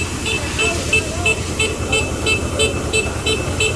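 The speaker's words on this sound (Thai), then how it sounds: "นี่ก็คือเสียงดังที่เกิดขึ้นจากรอบเครื่องไม่ถึงนะครับ" The diesel engine of a used Kubota R1-121 rice combine harvester runs loudly at low rpm. It gives a close, heavy drone with a regular pulsing knock, about three beats per second, that continues throughout.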